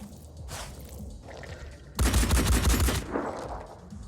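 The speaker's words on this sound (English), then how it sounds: "I love that they get return fire." Return gunfire in the Phoenix Point strategy game, a dense burst of rapid shots erupting loudly about halfway through, after quieter scattered reports and thumps.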